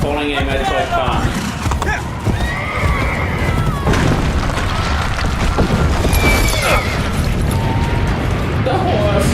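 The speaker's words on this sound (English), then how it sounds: "The horse." A horse whinnies amid a busy Assassin's Creed Brotherhood game soundscape with thumps and crashes, while people talk over it continuously.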